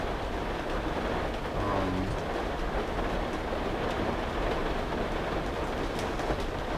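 Heavy rain drums on the roof of a 1984 Ford Shasta vintage RV, a dense, even hiss and patter heard from inside that carries on steadily throughout.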